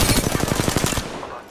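Automatic gunfire in the video game Apex Legends: a loud, fast, even burst of about a dozen close shots that stops abruptly after one second, followed by a short ringing tail.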